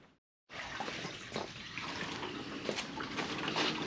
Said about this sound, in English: Putting antifreeze in.